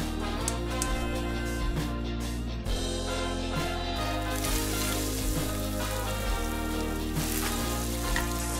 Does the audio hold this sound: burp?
no